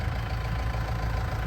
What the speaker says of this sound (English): This is my new Kubota